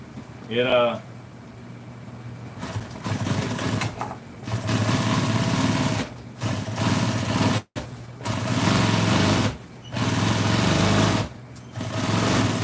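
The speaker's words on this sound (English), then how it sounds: "What I'm going to do is just sew it on here like this." A sewing machine sews boxing onto a beauty salon chair cover, whirring in several bursts separated by short pauses, close and fairly loud, with a brief chirp at the start.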